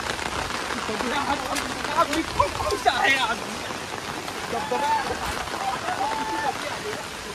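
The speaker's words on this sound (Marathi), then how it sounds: "आपण दुसऱ्या धबधब्याकडे बघूया आता" Rushing water at a waterfall, a steady broadband roar that fills the whole clip, with a person talking over it.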